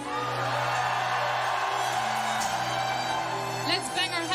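A metal concert crowd screams and cheers at a 20th anniversary show, a dense, loud roar sustained throughout over steady music from the stage, with a few sharper whoops near the end.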